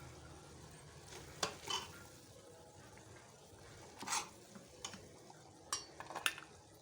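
Kala chana masala being scooped from a pan into a pot: quiet scraping and a few distinct clinks and spoon knocks against cookware, spaced irregularly over a low hum, with no talking.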